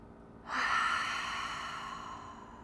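One long, breathy cleansing exhale during a yoga class, close and fairly loud, fading out slowly over a couple of seconds with no talk.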